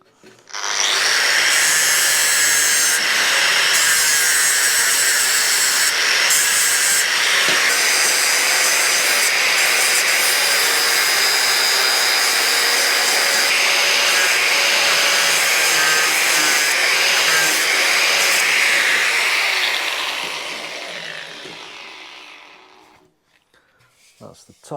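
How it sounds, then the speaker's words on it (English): An angle grinder dresses a weld on a bobber motorcycle build, a loud sustained high whine with shifting pitch as it bites the metal, running for about twenty seconds before spinning down and stopping. "Starting with the grinder."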